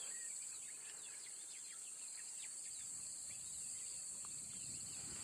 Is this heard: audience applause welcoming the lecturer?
no